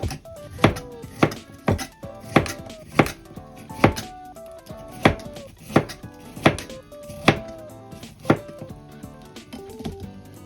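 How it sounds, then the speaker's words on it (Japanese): A knife chops through firm bitter melon on a cutting board in sharp, evenly spaced strokes, about one per second, close and crisp. "もうどんどんザクザクと切っていきます。"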